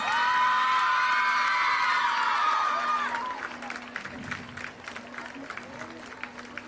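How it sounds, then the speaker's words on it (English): Children at a school annual sports meet cheer loudly for their teachers, a sustained high shouting swell that fades after a few seconds into scattered clapping and distant voices. "Come on, children, a loud cheer for our teachers."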